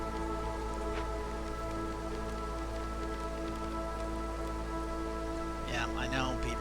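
Steady drizzle in the video game Against the Storm, a constant close hiss of light rain on surfaces under a low background hum, with a brief burst of higher chatter near the end.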